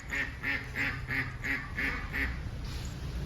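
A run of about seven nasal duck quacks in a steady rhythm, fairly close, followed by a brief pause with faint background noise.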